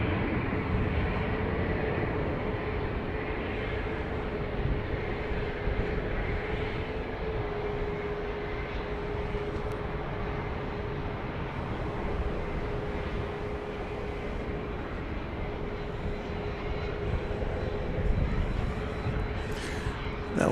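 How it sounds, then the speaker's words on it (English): Southwest Boeing 737 MAX 8 jet taking off from Dallas Love Field, a continuous broad engine roar held at a steady level for the whole stretch, without speech. "That was flight 26. No, sorry, flight 2564 to Chicago Midway, a max 8."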